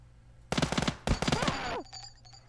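Gunshots in the Sub Rosa video game, two loud rapid bursts of automatic fire in quick succession, close and sharp, with a brief pause between them and faint electronic tones trailing after.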